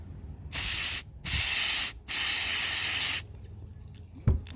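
Three bursts of aerosol cleaner spray hiss close by onto a mass airflow sensor from a Ford Ranger, the last one longest, separated by short pauses, followed by a faint click.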